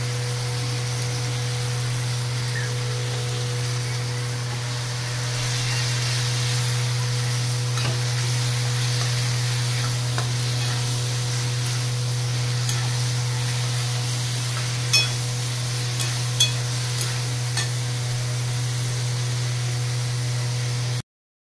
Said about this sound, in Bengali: এই চিকেন কষানো চলছে, হতে থাক।